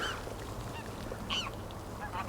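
Geese honk a few times at a distance over a soft, steady outdoor background at a reservoir.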